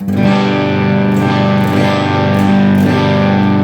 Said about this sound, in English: This is a completely dry sound through the front of my Supro Statesman on the red channel, no reverb